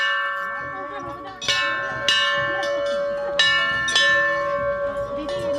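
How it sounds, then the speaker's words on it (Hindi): A temple bell rings out several times at uneven intervals, its clear metallic tone lingering and ringing on between strikes, with faint background murmur, at Sem Mukhem Nagraja temple. "हम भी बजा लेते हैं घंटी।"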